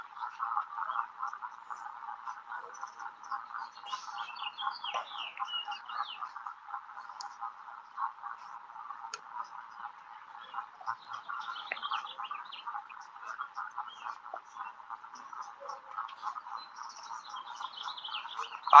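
Chirps and tweets from birds flit faintly above a steady, buzzing chorus, likely frogs or insects, that runs unbroken throughout.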